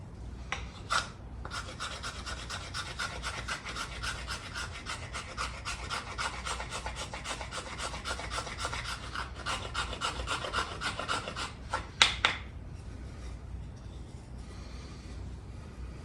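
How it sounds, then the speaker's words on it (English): Hard dogwood scraped with a blade into tinder shavings, a steady run of close, rapid rasping strokes for about eleven seconds, stopping briefly near the start and ending with a couple of sharper scrapes, then quiet outdoor background. "Dogwood scrapes really well."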